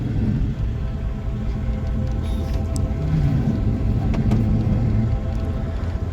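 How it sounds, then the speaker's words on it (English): A car slowly turns around in a driveway, its engine a steady low rumble heard from inside the cabin with tyre noise and faint clicks. "Turning my car around in this dude's driveway."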